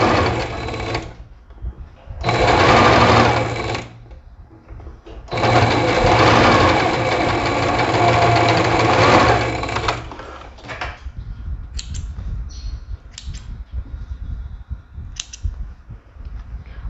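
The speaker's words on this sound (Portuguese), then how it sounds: "E aqui costuro também, ó, revel com revel, ombro com ombro." A sewing machine stitches a shoulder seam on a garment with a neckline facing. It runs in loud, close bursts of rapid whirring with short pauses between them, and fainter handling clicks follow.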